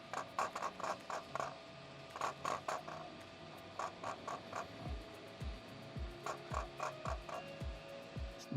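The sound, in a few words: 3D printer running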